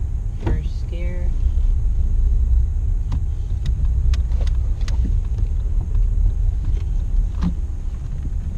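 Manual-transmission car idling and creeping at low speed in a parking lot, a steady close low engine rumble throughout, with someone speaking briefly over it.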